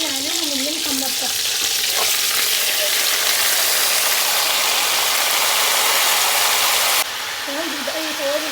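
Meat for pot kebab frying in a pan gives a steady, loud sizzle that runs throughout, with a brief spoken voice at the start and end over the hiss.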